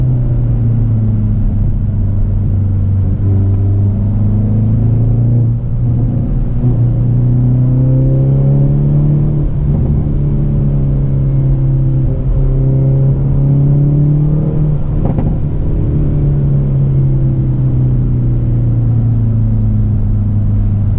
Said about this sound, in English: You should still be able to hear the car pretty good though.